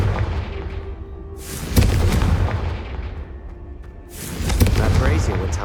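Two Confringo fire spell blasts from Hogwarts Legacy crack out a few seconds apart, each a sharp burst followed by a crackling, roaring rush, with a quieter rumbling stretch between them.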